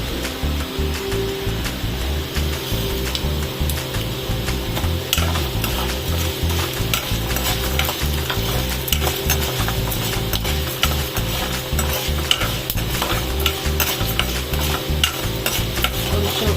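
Coriander seeds and mustard seeds crackle and splutter in hot oil for a cucumber roti pachadi, a busy continuous frying noise with scattered pops and stirring clatter throughout.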